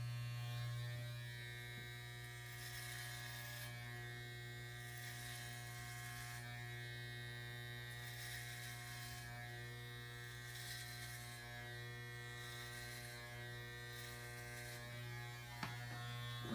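Electric hair clippers buzz steadily and close up throughout a self haircut at home, a constant motor hum with faint rhythmic swells as the blade passes through hair, with no talking.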